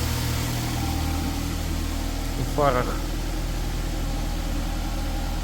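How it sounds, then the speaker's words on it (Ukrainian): A 2008 Nissan X-Trail engine idles with a steady, smooth low hum throughout, while someone briefly speaks over it. "Двигун працює рівно, м'яко, тихо."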